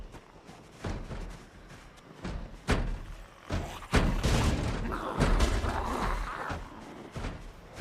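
Zombies banging on doors in the Project Zomboid video game, with repeated heavy thuds and bangs that come in irregular bursts and build into a dense, continuous pounding.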